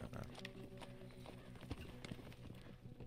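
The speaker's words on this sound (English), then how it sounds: "That's a good horse" Horse hooves clip-clop steadily in Red Dead Redemption 2, the rhythmic footfalls running beneath a continuous bed of game ambience and music, with speech audible.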